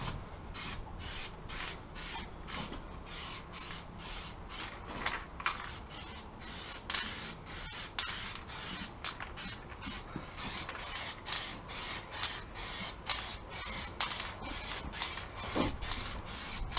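Stone chip coating sprayed onto a Ford Transit Connect van sill, a close hissing spray in repeated short bursts with brief pauses and small mechanical clicks, no speech.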